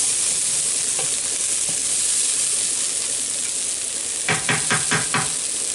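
Onions frying in a pan, a continuous bright sizzle, with a quick burst of scraping stir strokes toward the end.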